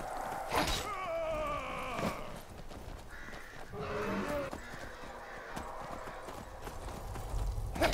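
Horse hooves clip-clop steadily in the video game Skyrim, with a drawn-out whinny rising near the start and a groaning neigh in the middle, all set against busy game ambience with no talking.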